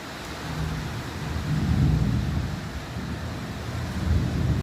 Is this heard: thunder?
yes